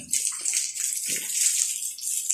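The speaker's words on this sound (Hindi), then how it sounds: "इस वक्त आपके सामने मैं तराई लगा रहा हूँ, यानी कि ईंटों को अच्छे से पानी लगा रहा हूँ।" Water splashes and hisses onto bricks to cure fresh brickwork, a steady close spray that varies slightly in strength, with no voices.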